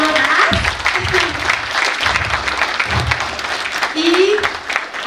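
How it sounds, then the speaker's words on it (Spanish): Audience applause at the close of a discussion on Gaza, steady clapping mixed with voices and a few brief tonal sounds, fairly loud throughout. "un aplauso para todos y para todas"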